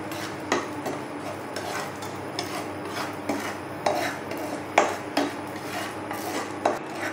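Chillies being stirred in a pot with a metal spoon, giving repeated scraping clinks and taps at an uneven rhythm over a low steady background, close and moderately quiet.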